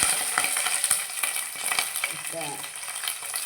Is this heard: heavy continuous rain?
no